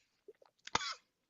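A single sharp, close cough after choking on something, preceded by a few small throat sounds, in an otherwise quiet room.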